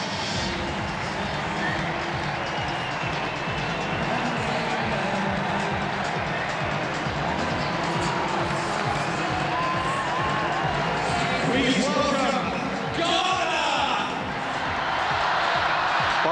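Large stadium crowd at the 2002 Manchester Commonwealth Games opening ceremony, shouting and cheering in a steady, dense roar as athlete teams parade in, with some louder swells of voices near the end.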